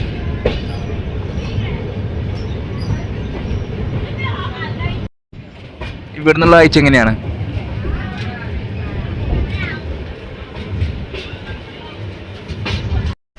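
The Sarvodaya Superfast Express runs in sleeper class on a bridge just past SMVD Katra, with a constant rattling rumble, a brief cutout, and a squealing, screechy stretch in the middle, while someone talks over it.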